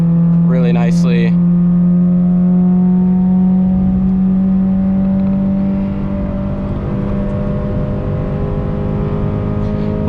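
A Subaru BRZ on a mountain touge road holds a loud, steady engine drone that climbs slowly in pitch, with a voice briefly speaking over it near the start.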